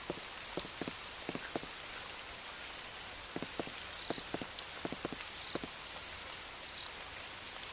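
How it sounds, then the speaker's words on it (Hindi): Heavy rain falls at night on a forest road, a steady wash of drops with irregular sharper taps spread throughout, fairly loud and close with no voices. "बारिश तेज हो गई थी"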